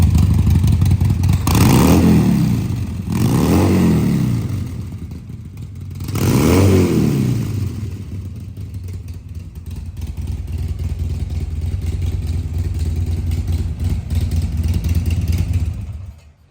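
A 2019 Harley-Davidson Sportster Forty-Eight 1,202cc engine revs sharply three times in quick succession, then drops back to a loud, steady idle nearby.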